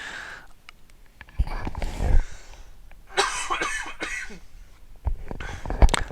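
Several short coughs and throat-clearing bursts spaced across the clip, close and moderately loud, with quiet breathy gaps between them.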